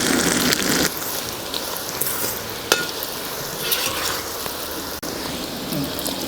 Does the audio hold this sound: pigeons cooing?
no